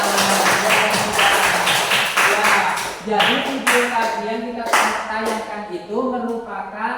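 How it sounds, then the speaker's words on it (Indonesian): A group claps together in sharp, steady bursts, mixed with voices talking and calling out over the applause. "Bagus, tepuk tangan."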